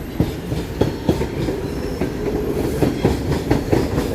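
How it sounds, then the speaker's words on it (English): Toronto subway train moving slowly along the tracks between Eglinton and Davisville, a steady rumble with repeated rhythmic clicks from wheels crossing rail joints, heard from inside the car. "This train is going pretty slow."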